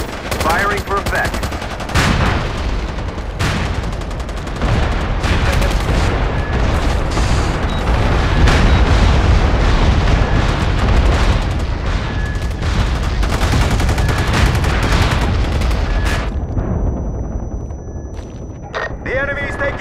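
Continuous heavy battlefield barrage in the MAG shooter on PlayStation 3: booming artillery explosions layered with machine-gun and rifle fire, loud and sustained throughout, with radio-style voice chatter at points.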